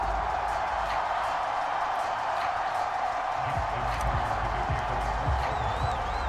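A home crowd in the Madden NFL 22 video game cheers in a steady, broad roar that holds evenly throughout, with no clear peaks.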